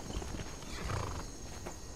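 A horse in the Skyrim video game, steady clip-clop hoofbeats on the ground with a faint neigh, continuous and moderately close, with no talking over it.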